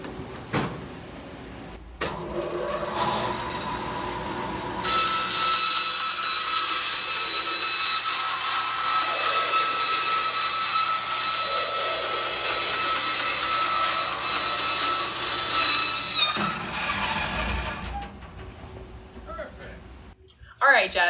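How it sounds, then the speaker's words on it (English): Bandsaw running and cutting open a car battery, a loud sustained whine with bright high tones lasting over ten seconds, starting and stopping with a mechanical thump, with people talking around it. "let's go ahead and get this bandsaw going"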